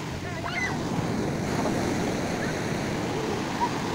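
Big ocean waves wash steadily onto a beach in a continuous roar, with wind buffeting the microphone and faint voices in the background.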